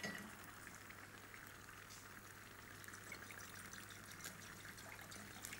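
Wine pours steadily into a pan with a continuous bubbling, sizzling wash, fairly quiet and unbroken for several seconds, no voices.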